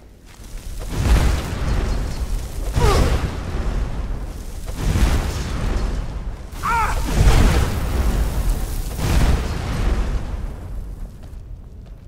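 Series of heavy booming spell explosions in Skyrim, four or five bursts a couple of seconds apart, loud and dense with rumbling low end, no talking.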